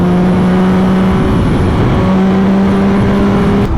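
Constant engine hum and strong wind roar from a motorcycle ridden along an open road, a steady droning tone shifting slightly in pitch, close and loud throughout with no voices.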